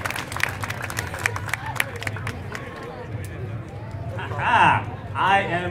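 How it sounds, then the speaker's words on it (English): A convention audience at a cosplay contest cheers for the cosplayers, a short crowd roar rising near the end after an announcer speaks amid light chatter. "I want you to go ahead and make this area echo again and cheer for these cosplayers."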